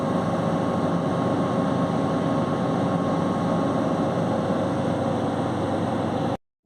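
An Iveco Daily 2.3 diesel engine is held at high revs, a constant loud drone with a steady rumbling undertone that stays unchanged for about six seconds before cutting off abruptly.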